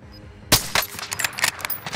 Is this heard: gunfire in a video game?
yes